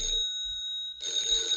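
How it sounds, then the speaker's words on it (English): A telephone bell ringing, a bright sustained electric ring that pauses briefly and then resumes, heard close with nothing else over it. "Oh, that's the phone. That's the phone."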